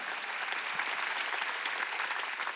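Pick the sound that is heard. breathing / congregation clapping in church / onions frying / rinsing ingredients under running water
congregation clapping in church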